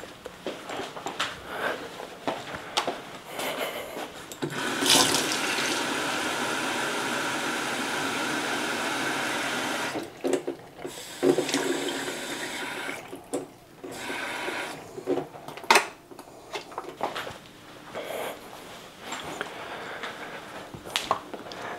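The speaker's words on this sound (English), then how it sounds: "I'm gonna go put some water in this hole and then try to shoot it." A tap pours water into a Spyra Go water gun with a steady, hissing rush that lasts several seconds, then gives way to handling clatter and short knocks.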